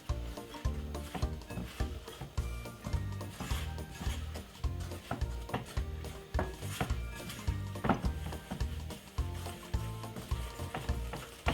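A wooden spoon stirring sponge cake batter in a bowl, giving soft, rhythmic scraping and thudding strokes, close and fairly quiet.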